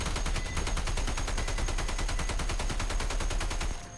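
An NSV heavy machine gun in Fallout 4 fires one long, rapid, evenly spaced burst of loud shots for several seconds before it cuts off.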